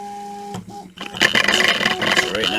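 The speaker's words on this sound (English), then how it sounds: "And then the printer is going to come to life." Printer at a hammerhead print setup starting up after a steady hum, a short pause, then loud whirring, clicking and mechanical adjusting sounds close by.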